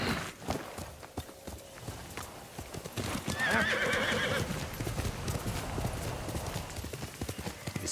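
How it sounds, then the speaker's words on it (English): A horse whinnies in one clear, high neigh while hooves clip-clop steadily on a hard surface, close and moderately loud throughout. "Horse!"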